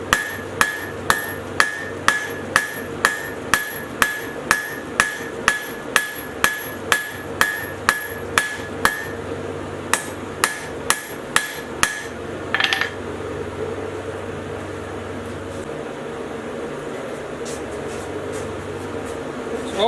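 Metal is hammered flat on an anvil for a decorative plant hanger, roughly twenty loud ringing blows at a steady rhythm with a short pause, then a scrape and a low background drone.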